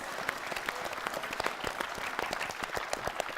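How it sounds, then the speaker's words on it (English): An audience applauds the judge at a school quiz competition with brisk, fairly close clapping from a modest crowd, individual claps standing out over a steady patter. "Give him a round of applause."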